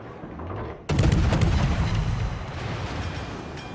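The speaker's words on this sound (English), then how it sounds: "Colorado shoots behind us with other turrets." Heavy naval gunfire from the battleship Colorado's turrets in World of Warships: a sudden loud boom after a quiet start, then a dense rumbling roll of further blasts that trails off slowly.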